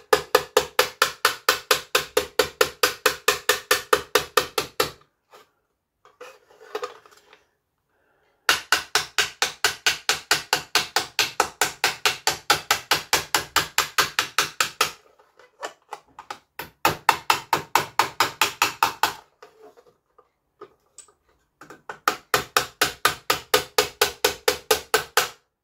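Rapid, even hammer blows ring on sheet metal while straightening a Suzuki GSX-R under-seat tray, in long bursts separated by short pauses with faint clinks and shuffling; close and loud, no talking.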